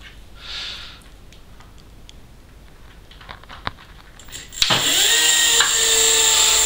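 A small ebike motor switches on under throttle control from an external 4-volt battery, rising to a steady high whine with bright harmonic tones after a quieter stretch of faint clicks and shuffling.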